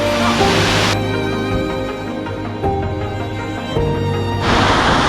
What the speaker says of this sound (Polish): Piękny wodospad i bryza